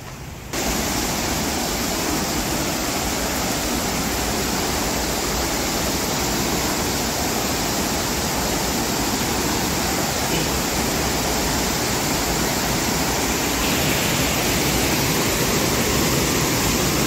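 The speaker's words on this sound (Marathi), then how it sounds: "हे असंच खळखळणारो धबधबो बघा।" A gushing waterfall hidden in the Sindhudurg forest roars in a constant, dense wash of white noise, loud and unbroken for the whole stretch, with nothing else audible over it.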